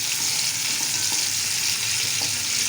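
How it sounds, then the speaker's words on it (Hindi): Chopped onions frying to golden brown in hot oil for matar pulao, giving a dense, steady, close-up sizzle and crackle throughout with no talking. "प्याज बिल्कुल फ्राई हो चुके हैं, ये देखिए गोल्डन फ्राई हो चुके हैं।"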